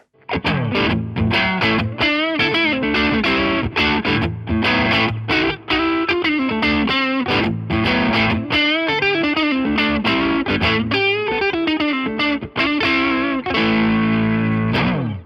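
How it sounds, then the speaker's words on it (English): A mildly overdriven electric guitar through a Rajani Amps VOD-50 tubeless amp with boost engaged plays a bluesy lick with bends and chords, lightly gritty low-gain tone, continuous, no voices. "we're going to get a pretty cool low gain blues tone"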